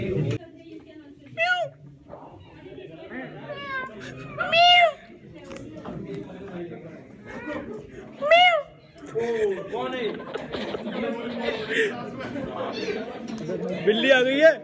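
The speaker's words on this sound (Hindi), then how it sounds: "बिल्ली आ गई" A cat meows several times, each cry short and distinct, over steady chatter from a group of people talking nearby on a college campus.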